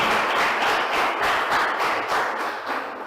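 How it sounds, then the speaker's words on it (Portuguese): A church congregation applauding their God after a sermon, dense sustained clapping from many people, fairly loud and close, swelling and easing slightly before tapering off toward the end. "Vamos aplaudir nosso Deus"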